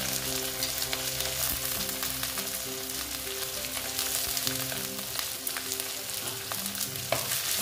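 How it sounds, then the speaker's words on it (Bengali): Chopped onion frying in hot oil with ginger and garlic in a home kitchen pan, a steady close crackling sizzle throughout, with occasional light stirring and no talk. "দিয়ে আমি পেঁয়াজটাকে ভালো মতন ভেজে নিচ্ছি।"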